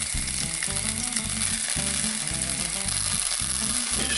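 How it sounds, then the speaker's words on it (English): Sage leaves fry in hot oil in a pan for butternut squash soup, giving a dense, even sizzle throughout under a looping background music track, with no voice heard. "You're just going to let them fry for a couple of minutes just to infuse the oil with the sage flavour."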